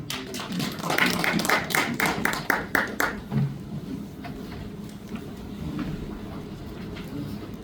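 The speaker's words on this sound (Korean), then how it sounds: "박수로 환영해 주십시오" At the 25th general assembly of the Korean Yangming Society, a small audience claps to welcome a speaker. The clapping is brisk and fairly even for about three seconds, then trails off into quiet room noise.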